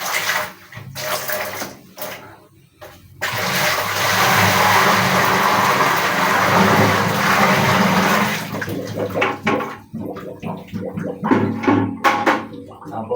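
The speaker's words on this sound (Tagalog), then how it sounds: "Ito, bubuhos ko na." Water is poured while a filter is cleaned, a loud, steady rushing pour lasting several seconds, followed by scattered splashes and handling noises.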